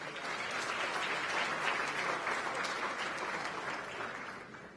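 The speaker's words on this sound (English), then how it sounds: "Let's give yourselves a round of applause." Steady applause from a seated audience at an evening dinner event, filling the room evenly for about five seconds with no voices over it.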